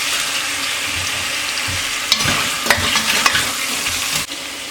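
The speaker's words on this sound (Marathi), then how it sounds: "आपण ह्याच्यामध्ये फिश घालणार आहोत. आणि फिशला जरा हलक्या हाताने थोडं परतून घ्यायचंय" Pieces of fish sauté with grated coconut in a pan, a continuous sizzle broken by a few sharp scrapes and clacks of a spoon stirring gently, close up, with no voices.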